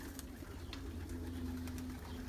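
Racing pigeons in a quarantine loft give low, steady cooing, a soft continuous murmur with a few faint flutters and higher chirps over it.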